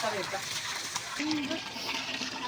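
Water gushes strongly from a faucet into a container, a close, steady splashing rush under a person's talk.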